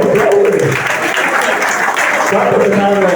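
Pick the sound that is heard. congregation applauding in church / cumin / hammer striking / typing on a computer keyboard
congregation applauding in church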